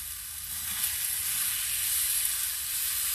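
Tomatoes sizzle steadily in a hot frying pan, a close, continuous bright hiss with no pauses and nobody talking.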